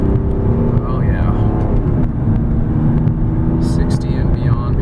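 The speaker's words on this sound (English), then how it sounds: "Here we'll do a 0 to 60 acceleration run." A 2005 Mercedes-Benz E320 CDI turbo diesel accelerates from a stop, its engine droning steadily and loudly throughout while a person talks.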